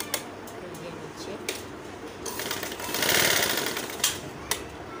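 Electric sewing machine stitching a small boy's kurta runs in short bursts, a fast mechanical whirring rising to a longer run in the middle, with sharp clicks between bursts.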